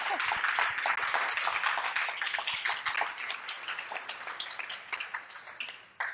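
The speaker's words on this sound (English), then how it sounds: "let's give them another round of applause." Audience claps for coding bootcamp teams at a demo day in Montreal, loud at first and then thinning into scattered, separate claps that fade toward the end.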